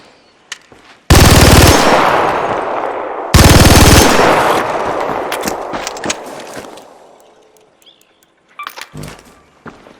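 A Bobcat gun in a video game fires without a kinetic converter, letting out two long, loud bursts of rapid automatic fire that trail off. A few scattered shots and clatters follow.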